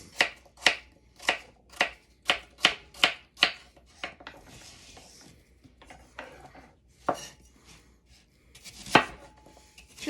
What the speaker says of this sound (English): All right, and then slice.